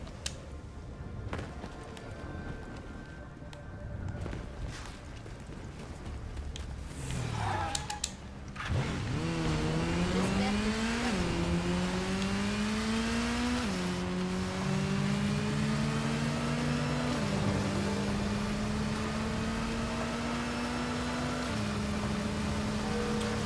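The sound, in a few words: motorcycle engine arriving in the video game Gotham Knights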